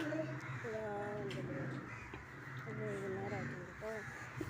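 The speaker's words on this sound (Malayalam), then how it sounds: "ഈ ടൈം ആയാൽ കാക്കകൾ ഇങ്ങനെ പറന്ന് സൗണ്ടൊക്കെ ഉണ്ടാക്കിക്കൊണ്ടിരിക്കും." Crows cawing repeatedly as they fly around near a house under construction, with harsh calls in bursts over steady outdoor background noise and some talking.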